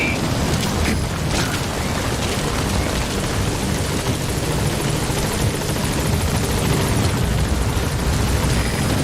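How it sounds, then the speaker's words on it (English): A support helicopter arrives at a landing zone in Metal Gear Solid V, its rotor a loud, continuous, dense chopping roar that fills the scene steadily from start to finish. "Support helicopter has arrived."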